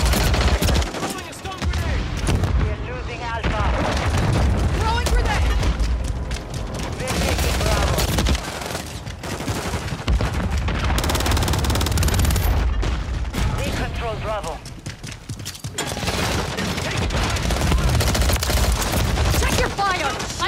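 Call of Duty combat: sustained rapid machine-gun fire and scattered shots over twenty seconds with heavier booms mixed in, loud and dense, with shouted voices heard intermittently under the gunfire.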